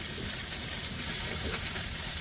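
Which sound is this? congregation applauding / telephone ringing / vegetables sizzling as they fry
vegetables sizzling as they fry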